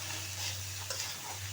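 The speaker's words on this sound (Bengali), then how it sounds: "এগুলি এখন আমি ভালো করে তেলের মধ্যে ভাজবো, তারপরে দিব মশলা।" Pasta ingredients frying in oil in a pan, giving a steady close sizzle with faint stirring scrapes over a constant low hum, with no talking.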